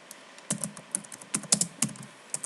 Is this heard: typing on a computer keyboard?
yes